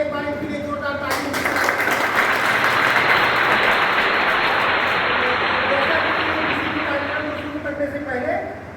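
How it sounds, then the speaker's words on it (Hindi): Audience applause at an engine launch event in Siwan, Bihar: loud, dense clapping swells in after a moment of talk and holds steady before tapering off, with voices faintly audible underneath. "एक बार इनके लिए जोरदार ताली"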